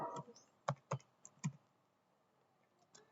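Switchport configuration commands are typed on a computer keyboard, a handful of quiet, close key clicks in an uneven cluster and then a pause.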